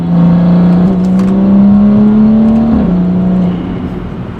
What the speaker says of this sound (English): So you can just hear it building boost and then it launches.